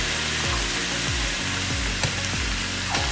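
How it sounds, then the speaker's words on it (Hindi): Ginger garlic paste frying lightly in a pan for chicken karahi gives off a steady, close sizzle and hiss that lasts the whole stretch without a break. "ये देखिए जिंजर गार्लिक पेस्ट को सिर्फ मैंने 2 मिनट तक हल्का सा फ्राई किया है"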